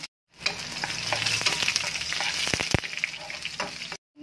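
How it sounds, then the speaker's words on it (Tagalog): Ginger and other aromatics sauté in a hot pan for ginataang tulingan, giving a close, continuous sizzle with clacking stirs and one sharp knock of a utensil near the end. "dito na rin tayo magigisa ng ating mga aromatic"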